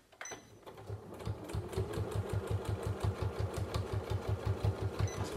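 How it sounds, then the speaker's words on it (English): A sewing machine runs at a steady pace stitching a fabric card holder, its rapid rhythmic needle thumps close and clear after a brief start-up clunk. "I'm just going to take one more stitch."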